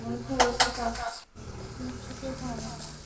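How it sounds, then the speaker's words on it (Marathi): Soft cake batter being beaten in a bowl with a spoon, giving rhythmic scraping and a couple of sharp clinks against the bowl, close, with a brief pause midway. "एकाच दिशेने चांगलं फेटायचं आहे"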